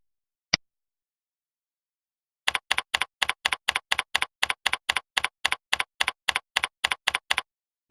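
One sharp click sounds, then after a pause a computer keyboard is typed on in a fast, even run of crisp, close keystrokes in a quiet room while code is entered.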